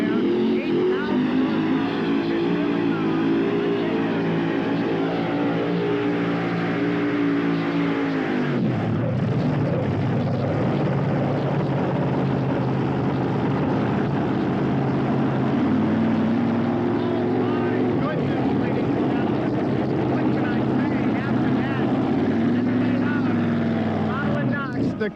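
A four-engine pulling tractor roars at full power during a live pull at a county fair, a loud sustained engine drone that drops in pitch partway through and continues heavily to the end.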